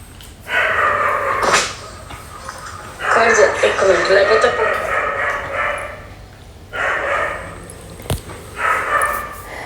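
Several dogs bark in short bursts, a few close by and loud, with pauses of quiet between the volleys.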